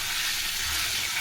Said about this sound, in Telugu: పసుపు వేసుకున్న తర్వాత ఒక 2 నిమిషాలు ఫ్రై చేసుకుంటే